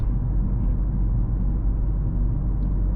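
A 2024 Mercedes-AMG GLC 63 S with exhaust flaps open, heard from inside on a night drive, gives a deep, steady low rumble at constant volume with no other sounds.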